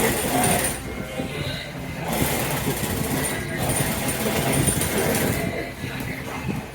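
A domestic sewing machine stitches along the seam allowance of a jumpstuit crotch seam, running in steady bursts of loud mechanical whirring with brief pauses between runs, close up and alone.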